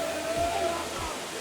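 A natural waterfall at a Nepal pilgrimage site, where tourists are bathing in the falls, gives a steady broadband rush of falling water with brief sloshing swells, heard up close.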